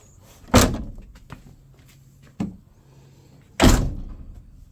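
Isuzu car door under repair being shut, two loud solid slams about three seconds apart with a smaller thunk between, close by with no talk.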